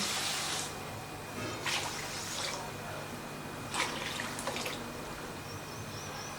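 Water poured from a bowl into sugar in a pan, heard as soft splashing and trickling bursts close by, quiet and intermittent over a steady low background hum.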